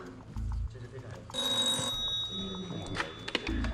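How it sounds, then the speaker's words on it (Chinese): A telephone rings in short bursts, partly under a person talking, with a brief clear tone mid-clip. "有电话进来"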